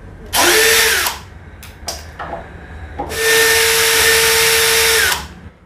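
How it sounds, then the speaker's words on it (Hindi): A cordless power drill backs the screws out of a cylindrical door latch, whirring loudly in two long bursts with a couple of short trigger blips between them, with no talking. "इसके हमने स्क्रू खोल लिए"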